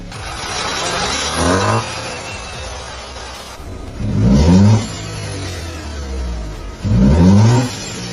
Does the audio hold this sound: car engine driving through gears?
yes